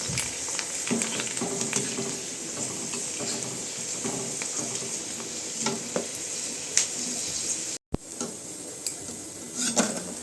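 Onion pakoda (khekda bhaji) frying in a kadai of hot oil in a Maharashtrian home kitchen, giving a steady, close bubbling sizzle with occasional stirring clinks and a brief dropout near the end.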